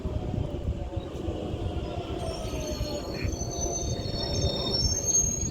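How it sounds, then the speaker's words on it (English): A London Underground train on the Jubilee or Metropolitan line rumbles steadily at close range at Dollis Hill, with a whining electric motor hum and high metallic tones rising over the running noise. "I love the motors on these trains"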